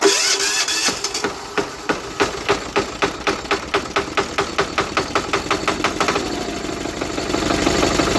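A Cub Cadet HDS turbo diesel tractor engine cold-starting: a steady train of rapid, even cranking pulses builds for several seconds before the engine catches into a rougher, louder running roar near the end, close and with no talking.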